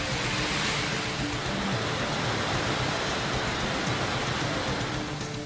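Heavy rain pours down in Krishnagiri district as a dense, loud, unbroken wash of noise lasting several seconds; no thunder stands out and nobody speaks.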